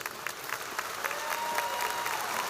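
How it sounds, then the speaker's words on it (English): A crowd at a high school commencement ceremony breaks into applause for the graduating seniors, a brief, dense patter of clapping that builds slightly over a couple of seconds. "applaud for the seniors."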